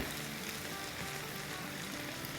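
Chicken masala frying with yogurt in a pan for Kashmiri chicken masala, a steady, even sizzle throughout, soft and close with no voices.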